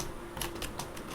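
Fingers typing on a computer keyboard, a few quick, soft key taps close by within a brief moment, quiet and free of talk.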